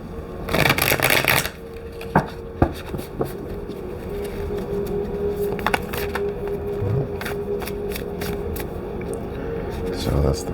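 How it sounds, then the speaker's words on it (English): A deck of tarot cards is shuffled during a reading, with a dense riffling burst at the start followed by scattered light taps and card handling at close range over a quiet room hum. "Let's give this a nice little shuffle."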